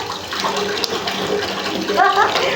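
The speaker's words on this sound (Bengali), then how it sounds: "হাতে জল নিয়ে" A child rinses their mouth with water from a tap, steady running water splashing into a sink with a brief gargling swish near the end, close and continuous.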